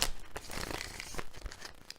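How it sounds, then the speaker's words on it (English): Tarot cards are shuffled and one gets bent, giving a dry papery crinkling and snapping close up, with quick irregular bursts and no talking. "Ooh, bent that card."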